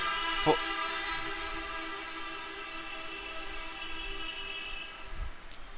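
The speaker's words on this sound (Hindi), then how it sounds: "पूरा हॉर्न यहीं बजा के जाना था इसको।" A train horn sounds as a long, sustained tonal blast, steady and fairly loud over faint background rumble, with a small knock near the start.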